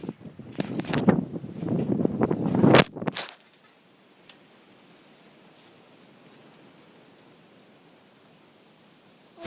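Strong gusts outdoors on a windy day roar loudly against a phone microphone for about three seconds, then cut off abruptly, leaving near silence with only a faint background hiss.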